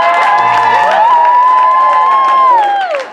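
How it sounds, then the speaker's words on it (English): An audience at an improv comedy show applauds and cheers, with a sustained, wavering high shout or whoop riding above the clapping before it drops off near the end. "Give them a round of applause."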